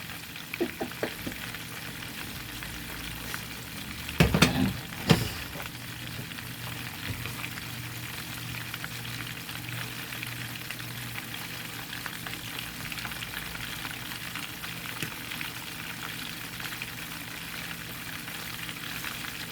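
Mustard-coated catfish nuggets fry in grease that isn't very hot, giving a soft, steady sizzle throughout, with a few brief clatters of utensils partway through.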